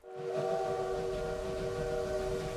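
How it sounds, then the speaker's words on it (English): Steady, sustained train whistle in the Victoria 3 strategy game, a tonal multi-note blast holding level for a few seconds over a low rumble, with no talking. "Choo choo! You can even see the trains."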